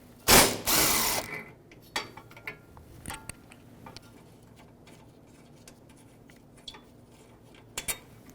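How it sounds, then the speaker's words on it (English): Quick bursts of ratchet clicking from a 10mm socket backing bolts off a front-end brace on a 2013-2018 Toyota RAV4, one long loud run early, then scattered short clicks and small metallic taps, close up with no talk. "There's 2 bolts right here with a 10mm socket."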